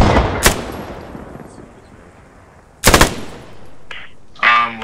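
Enemy machine gun fire in the WWII shooter Post Scriptum on the Maginot map, two loud rattling bursts a couple of seconds apart with quieter gaps and a distant shot between.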